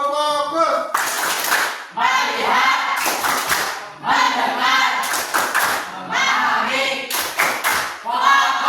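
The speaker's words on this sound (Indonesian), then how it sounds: "sekali lagi untuk tepuk fokus ya. Tepuk fokus." A group claps out the rhythmic 'tepuk fokus' focus clap in short, loud bursts of hand claps and thumps, with children's voices chanting along through each burst.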